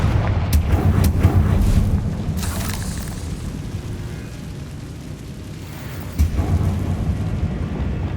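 A Confringo fire spell bursts in the Hogwarts Legacy video game, giving a heavy booming blast that rumbles and fades, then a second thud, over a low game ambience with no talk.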